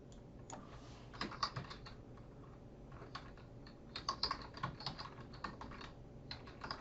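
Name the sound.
typing on a computer keyboard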